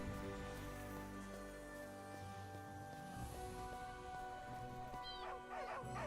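Several dogs bark and yip at a wall in the video game AFK Journey, with short bursts rising near the end over a layered background of game music.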